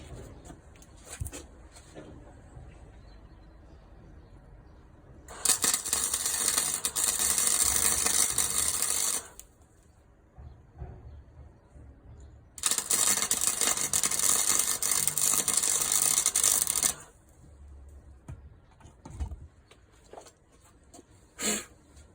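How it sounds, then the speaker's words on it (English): Two sustained bursts of crackling buzz, each about four seconds long, come from tack welding a steel sensor bracket for a Honda Grom, with quieter clanks and shuffling in between and no talk. "So I'm just going to tack these in place now and then give them a good decent weld afterwards."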